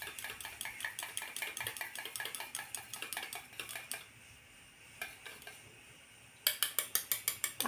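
Eggs are beaten with salt in a bowl, producing quick rhythmic metallic clinks. The beating pauses briefly partway through, then resumes faster and louder.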